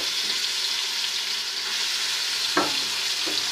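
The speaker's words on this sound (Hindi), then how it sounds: "4 से 5 मिनट इसी तरह फ्राई करते हैं" Beef pieces frying with lightly browned onions in a karahi, a steady close hiss and sizzle throughout with a couple of brief stirring scrapes near the end.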